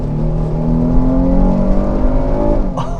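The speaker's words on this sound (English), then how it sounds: "This V6 engine really has an incredible sound to it and some really nice pick up and go too" A 2024 Chevy Blazer RS V6 in all-wheel drive mode pulls hard on an open road, the engine note rising steadily in pitch as it accelerates, loud and continuous with a brief whoosh near the end.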